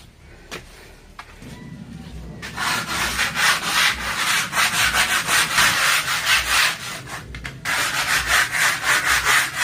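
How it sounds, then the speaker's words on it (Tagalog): Hand sanding of a rough skim-coated wall during a DIY house repair: a few faint scrapes, then continuous close, loud rhythmic rasping strokes back and forth, with a brief pause near the end. "tapos na akong mag-sanding"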